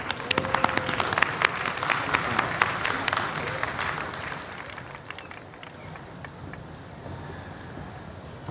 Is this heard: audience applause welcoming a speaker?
yes